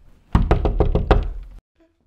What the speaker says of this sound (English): I'm saying do a safety knock, not a horny knock.